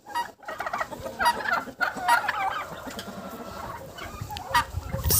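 Turkeys and chickens in a farmyard gobble and cluck in a busy, overlapping chorus, close and fairly loud throughout, with no talk over them.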